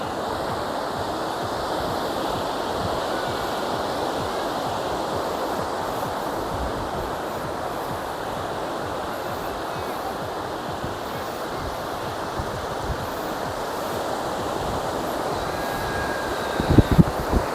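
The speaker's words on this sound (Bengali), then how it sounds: "দেখুন কি সুন্দর ঢেউগুলো আসছে" Sea waves wash continuously onto Tajpur beach, a steady broadband roar of surf close by with no voices and a brief louder splash near the end.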